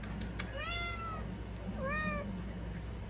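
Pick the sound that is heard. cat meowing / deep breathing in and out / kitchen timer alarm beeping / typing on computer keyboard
cat meowing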